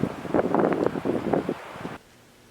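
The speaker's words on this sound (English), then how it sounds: "It's only 35 degrees and it's windy." Gusty wind on a cold farm at 35 degrees buffets the microphone in rough bursts for a couple of seconds, then drops abruptly to a quiet hiss.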